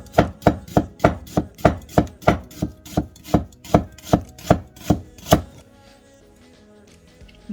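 A knife chops onions on a board for a cheese and onion pie, about fifteen crisp, evenly spaced close cuts in a quick steady rhythm, then the chopping stops and it goes quiet.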